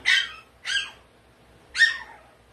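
A three-and-a-half-month-old male Pomeranian puppy yaps three times at a busy pet market, two quick high barks and then a third after a short gap, close by.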